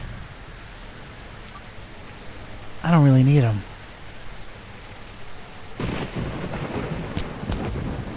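Steady rain hiss with low rumbling thunder in the horror adventure game Gibbous - A Cthulhu Adventure, set in rainy Paris, continuing under a man's speech.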